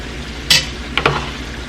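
Mexican stewed beef with soft potatoes being stirred in a pot: a short scrape near the middle, then two more quick scrapes of the spoon against the pot, set over a low steady simmer.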